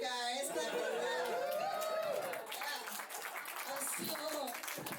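Audience at a stand-up comedy show claps and cheers, a steady wash of applause with crowd chatter and whoops mixed in, fairly distant and moderate in level throughout.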